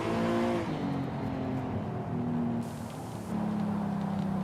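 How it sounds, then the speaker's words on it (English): Forza Horizon 5 turbocharged car with quad exhaust accelerating through gears from an interior view: a loud engine drone that rises, drops at a shift, dips briefly, then surges again. "The engine sounds even better from the interior."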